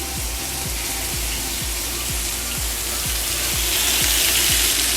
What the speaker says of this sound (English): You should do a nice little sizzle when they go in.